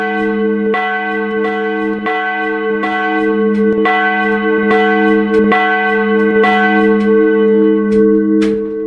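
A church bell in the Roblox video game, bell three of an eight-bell tower, rings in a steady, regular series of about a dozen close, loud strikes with a metallic clank and ringing hum between them.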